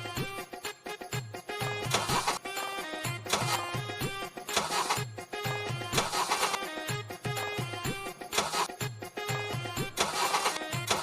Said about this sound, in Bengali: দাও বাইকটা স্টার্ট দিই।